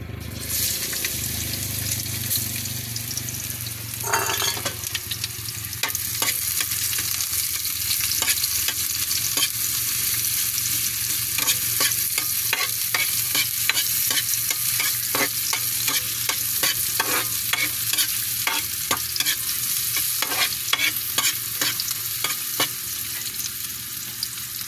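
Garlic and onion sizzle steadily in a hot pan for ampalaya, a constant frying hiss broken by repeated scraping strokes of a spatula stirring the pieces.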